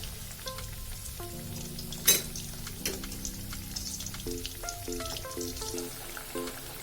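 Boneless chicken frying in a pan for chilli chicken, a steady soft sizzle with occasional louder pops and stirring clatter, under light background music.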